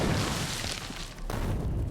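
Continuous rumbling booms of explosions in the Factorio Exotic Industries game, a dense, loud roar that briefly dips before surging again, with no voices.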